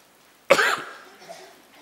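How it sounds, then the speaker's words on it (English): A single sharp cough from a man giving a 2013 budget speech in a parliamentary chamber, loud and close, with a short echoing tail. "forgive me for coughing every now and again"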